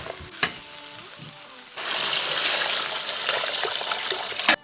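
Mutton offal is stir-fried in a pot, starting fairly quietly with a few clinks before a loud, steady sizzle bursts up and roars on for several seconds, with a final scrape at the end.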